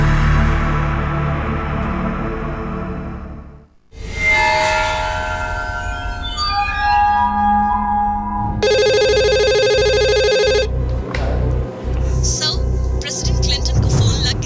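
A telephone rings during a dramatized scene of Pakistan's prime minister repeatedly calling the United States at the time of the Kargil conflict. A bright, steady electronic ring lasts about two seconds over a loud rumbling music bed, with short thumps after it.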